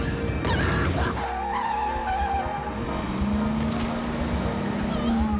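A car skidding as it turns back around, with tires squealing in a rising, sustained screech over the engine noise, close and fairly loud.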